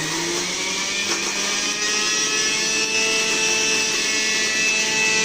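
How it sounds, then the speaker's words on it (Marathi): Garlic ground in an electric mixer grinder gives a loud, continuous motor whine with a steady rattling grind, close and unbroken throughout, with no voices. "मिक्सरला बारीक करायला"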